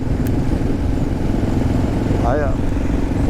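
A heavy adventure motorcycle fitted with Tusk Waypoint tyres rolls over a thin layer of loose gravel, producing a loud, steady engine drone mixed with constant wind rumble that runs unbroken throughout.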